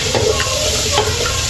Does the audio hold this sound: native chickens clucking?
no